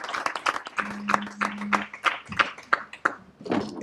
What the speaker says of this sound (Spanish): a la que yo quiero pedir un aplauso para una mujer luchadora